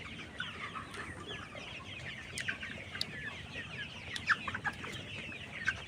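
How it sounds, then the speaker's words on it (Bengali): Sixty-day-old vaccinated layer pullets, about 3,500 birds on a poultry farm, cluck in a busy overlapping chorus, with sharper squawks and calls popping out over a constant flock murmur. "এই ভিডিওটায় যে মুরগিগুলো দেখতেছেন এই মুরগির বয়স চলতেছে আজকে ষাট দিন"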